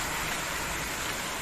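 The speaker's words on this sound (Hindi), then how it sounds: "और बर्फ के गोले भी गिर रहे हैं।" Heavy rain mixed with hail pours down in Bhopal, a dense, steady roar of falling water with no breaks, loud and enveloping from start to finish.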